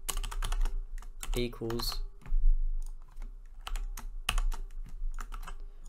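Typing on a computer keyboard while coding a Node.js Discord bot, quick irregular clicking keystrokes in bursts, close and clear, with a voice speaking briefly partway through.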